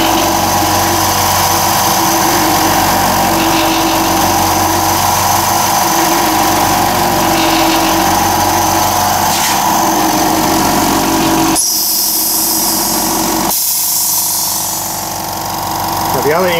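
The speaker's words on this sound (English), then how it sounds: "And now the compressor's running." A workshop air compressor runs with a steady, loud motor drone and pump hum, with a brief shift in tone near the end.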